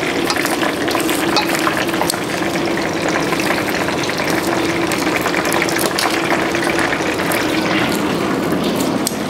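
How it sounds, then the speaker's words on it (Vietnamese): Loud, continuous crackling sizzle of bánh cống fried cakes cooking in oil at a street food stall, dense and steady throughout with no talking. "Bữa nay mấy cô cháu vừa chiên bánh cống vừa bán."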